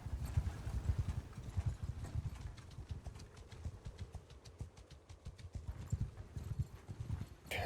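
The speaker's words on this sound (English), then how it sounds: "250 plus pack animals and horses, and I'm still moving along at a pretty good clip here" Hooves clip-clop in a quick, steady rhythm as a large caravan of horses and pack animals travels together in Mount & Blade II: Bannerlord, busy and continuous at moderate volume.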